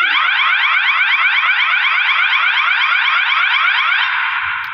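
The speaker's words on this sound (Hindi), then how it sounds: "तो अभी हम इसका साउंडर चेक कर लेते हैं।" A gas panel sounder alarm being tested gives a loud, continuous warbling electronic wail that holds steady for several seconds before fading at the end.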